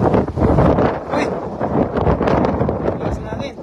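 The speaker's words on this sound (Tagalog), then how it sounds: "Lakas ng hangin." Strong wind at sea buffets a fishing boat, loud gusting roar and microphone rumble with rustling, close and continuous, while people talk over it.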